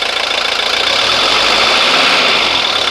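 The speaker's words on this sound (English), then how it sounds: "As the engine warms up, it gets really smooth." A 1983 Mercedes 240D diesel engine idles steadily and loudly, a dense, even rumble with a faint knocking texture running throughout with no voices.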